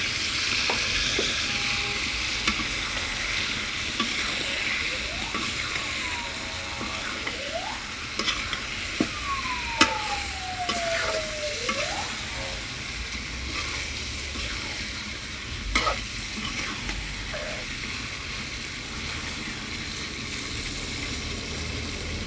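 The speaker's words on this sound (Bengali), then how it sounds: "এবার আমি ধুয়ে রাখা গোশগুলো দিয়ে দিব।" Washed meat frying in a pan with bay leaves, a loud continuous sizzle with stirring scrapes and clatter throughout, close up.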